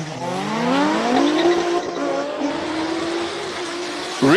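Ultima GTR rear-wheel-drive lightweight race car accelerating up the hill at a Cape Town hill-climb speed event, engine revving and climbing through gears, loud and close, then fading slightly before another surge.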